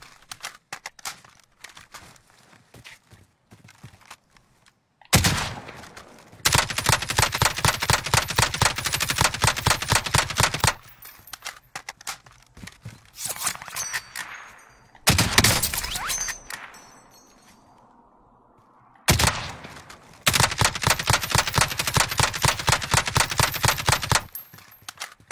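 Video game gunfire in long sustained automatic bursts, separated by gaps with quieter clatter and a reload pause, loud and close with no talking.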